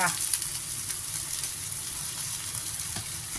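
Eggplant and minced pork simmer in water in a pan, a soft steady bubbling hiss that stays faint and even throughout.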